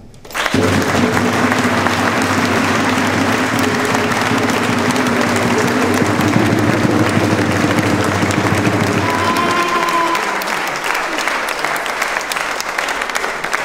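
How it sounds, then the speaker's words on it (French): A crowd gives warm, sustained applause to the Limoux XIII rugby league team, French championship finalists in 2022, at a municipal reception. The clapping is loud and dense for about nine seconds, then thins and fades out. "Je crois qu'on peut vous adresser très chaleureusement nos applaudissements"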